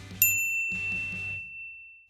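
A single bright notification bell dings with a sharp attack, followed by a softer second chime and a long ringing tone that slowly fades out.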